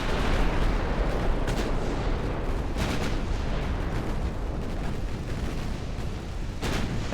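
Warship main guns boom repeatedly in Ultimate Admiral: Dreadnoughts, with 1890-era hulls trading fire: heavy, rumbling artillery blasts layered over a constant roar of battle, several distinct shots standing out.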